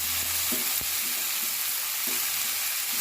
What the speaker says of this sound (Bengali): হলুদ লবণ দিয়ে ভাজি করবো সবজিগুলো একটু লাল লাল হওয়া পর্যন্ত অপেক্ষা করবো